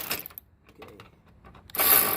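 A ratchet fitted with a socket extension works a headlight bolt loose on a G37/G35 sedan during a GTR-style headlight install: sparse faint clicks, then a loud rasping burst near the end, with no talking.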